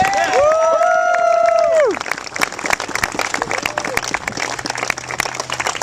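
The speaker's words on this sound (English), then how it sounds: "Give these people a round of applause, will you?" A crowd applauds and cheers at a 2010 political rally in Fort Wayne, with a loud whoop rising over dense clapping at first, then sharp, scattered claps continuing at a slightly lower level.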